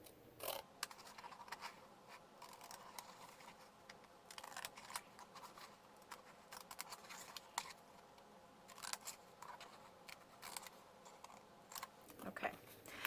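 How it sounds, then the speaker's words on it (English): Scissors cut paper along a jagged line while making papercraft gingerbread Kit Kat packaging. The snips are faint and close, coming as light, irregular clicks over a quiet room. "Now what I'm going to do is cut along this jagged line there."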